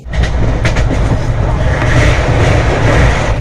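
An overnight passenger train in hilly Jharkhand rumbles loudly on the rails, heard from on board as a dense, continuous low roar with rhythmic clatter.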